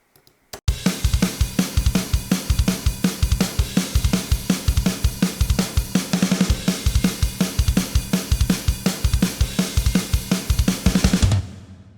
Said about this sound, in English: And then the final drums sounds like this.